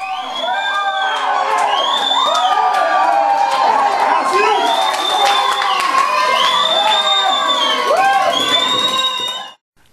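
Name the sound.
football fans cheering a goal by Brazil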